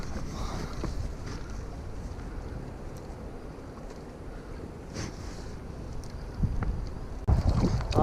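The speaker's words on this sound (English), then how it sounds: "the wind's getting too strong down here" Strong wind blows across a land-based fishing spot by the water on the Gold Coast, with a continuous rushing roar, louder gusts and buffeting thumps near the end.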